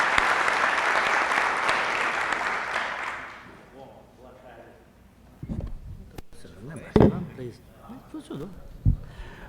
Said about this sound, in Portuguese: uma salva de palmas para ele, Nelson Tinoco